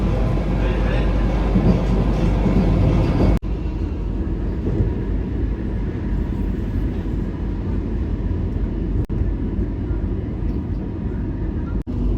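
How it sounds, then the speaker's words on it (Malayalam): Rumbling of a moving Vande Bharat Express carriage approaching a station, steady and close, slowing with clanks and a few sharp knocks; talk is faintly audible at the start. "ട്രെയിൻ പലക്കൽ സ്റ്റേഷനിലേക്ക് അടുക്കുന്നു"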